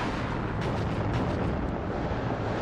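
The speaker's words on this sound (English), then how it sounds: "it's going to cook off with all of the rockets still in it" A Grad rocket launcher cooking off in the war strategy game WARNO, a dense, continuous roar of explosions and rumble filling the whole span at steady high loudness, with faint crackling pops on top.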